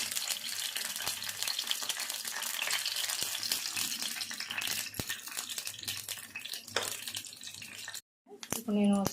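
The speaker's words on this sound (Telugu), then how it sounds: "ఫ్రై చేసుకోవాలి." Garlic fries in hot oil for a tempering, a steady crackling sizzle at moderate volume that cuts out briefly near the end, followed by a clank.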